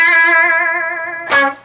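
A distorted electric guitar plays a pentatonic riff with bends and vibrato: a sustained, wavering bent note rings out, then a sharp new pick attack lands near the end, with no speech.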